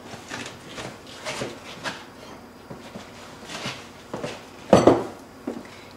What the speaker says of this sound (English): we're just gonna take the yolks and beat them real quick with a fork